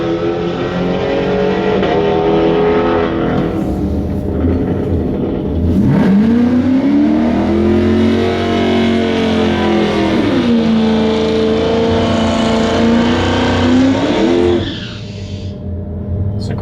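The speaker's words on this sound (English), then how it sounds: "Great sounding burnout." A car does a burnout at a drag race, its engine revving loud and close, rising and holding in long sustained pulls with tire noise before it drops off sharply near the end.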